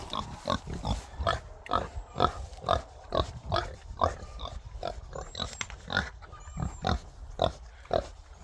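Pigs grunt in a steady series of short, repeated snorts, close by, with a few faint high squeaks in between.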